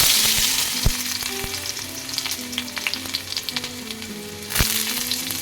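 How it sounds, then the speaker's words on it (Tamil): Steady crackling sizzle of garlic frying in hot oil for dry fish thokku, close and continuous, with a few sharp pops and faint clinks of a utensil. "ஆயில் நல்லா சூடானதோட பூண்டை போட்டுக்கோங்க"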